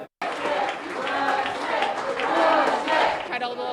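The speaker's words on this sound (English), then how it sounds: "Russet Perry arriving just in the last 90 minutes to cheers from the crowd, chanting her name, all excited for this win" A crowd at an election-night victory celebration for Democrat Russet Perry cheers and applauds loudly. The noise swells and stays energetic, then cuts off abruptly, with voices talking amid the din.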